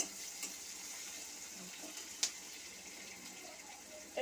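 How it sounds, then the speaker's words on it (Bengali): Spice paste fries in a pan until reddish for a taro leaf paste dish, giving a faint, steady hiss with a few small pops and clicks, quiet and unbroken by any voice. "এইগুলো আমি একটু ভালো করে লাল লাল করে ভেজে নেব।"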